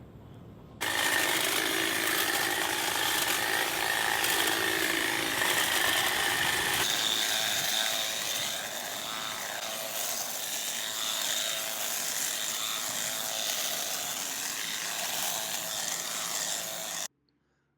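Milwaukee and DeWalt cordless hedge trimmers cutting through dense shrubs, a loud continuous motor whine with chattering blades that shifts in pitch partway through, close and steady for about sixteen seconds with no speech.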